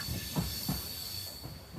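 A Sawantwadi-Diva passenger train running, with a steady rumble and a hiss, and regular thumps of the wheels over rail joints roughly every third of a second.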